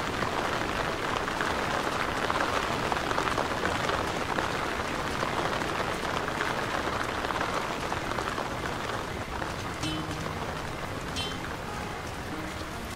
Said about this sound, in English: Always raining in Bree.